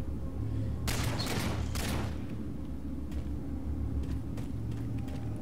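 Gunfire in a Halo multiplayer match, with two or three short bursts of shots at moderate distance over a low rumbling background, then fainter scattered pops.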